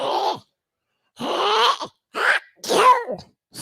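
A voice imitates Donald Duck sneezing, four short nasal squawking bursts separated by brief pauses, close and fairly loud, as a comedy stage bit.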